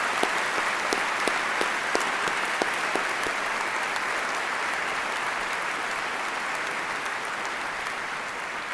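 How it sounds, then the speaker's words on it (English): A large crowd at a college graduation ceremony honoring military veterans gives sustained, even applause, with a few sharper individual claps standing out near the start before the clapping settles into a steady wash. "Please join me in a round of applause to acknowledge their service."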